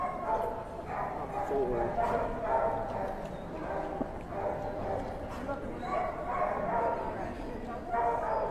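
Dogs at a dog show bark and yip intermittently around the ring, mid-distance and moderately loud, with people talking over a busy hall background throughout.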